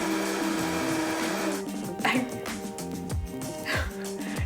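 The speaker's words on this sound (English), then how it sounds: "once everything's in the blender, you just blend it" A blender blending garlic and pineapple runs with a steady, buzzing whir that shifts in pitch as it blends, loud and close throughout.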